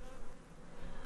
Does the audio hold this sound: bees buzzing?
yes